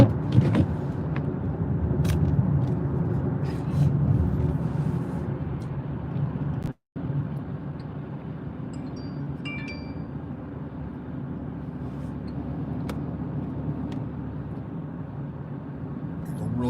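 A car creeps slowly over icy bridge decks during freezing drizzle in Tulsa, Oklahoma. Steady, close in-cabin road rumble and tyre noise continue throughout, with a brief dropout partway through.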